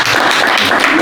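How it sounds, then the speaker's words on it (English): Audience at a blockchain club info session applauding, a brief, loud, continuous burst of many people clapping together, close and even. "Round of applause, everybody."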